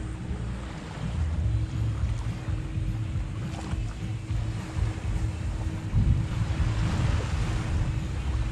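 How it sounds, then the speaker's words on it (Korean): Ocean surf along the beach at Gili Trawangan gives a steady, dense wash throughout, with some wind rumble and gusts against the microphone and no talking. "파도 소리 들으면서 이게 걷는 거죠"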